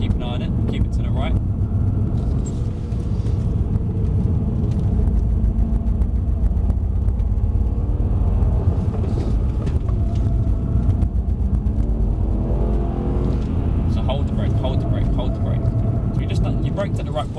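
A Mercedes C63s AMG is driven hard around the track at Mercedes Benz World, its engine a constant heavy rumble inside the cabin as an instructor talks throughout.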